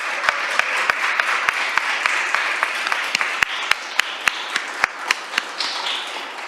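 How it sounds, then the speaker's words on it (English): Applause at a city council meeting: a soft wash of clapping under a string of sharp, evenly spaced louder claps close by. "that deserves a big round of applause"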